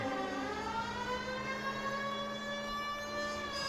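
A police siren from the LA Noire video game wails steadily and loudly in a sustained, slightly wavering tone, heard alone with no talk.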